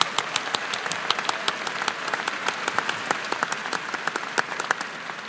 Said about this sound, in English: Could we please give President Sands a round of applause?